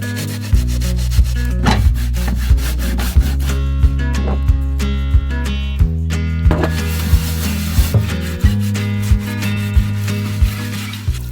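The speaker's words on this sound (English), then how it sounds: "get out those vinegar soaked lemons, add some salt to our cutting boards, and really get to scrubbing" Wooden cutting boards are scrubbed with salt and vinegar-soaked lemons, a loud, close, rhythmic rubbing and grinding with repeated strokes and short knocks.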